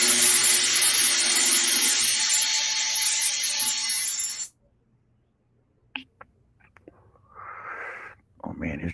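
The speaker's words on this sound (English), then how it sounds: "Oh man, his drill is loud." A loud power drill whirs steadily for several seconds, then cuts off abruptly, leaving near silence broken by a few faint clicks and a brief murmur of voices.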